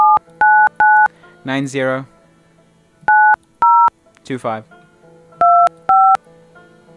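Phone dial pad keypad tones beep as a number is dialed, crisp two-tone bursts in quick groups of two or three, loud and close, with someone talking between the groups.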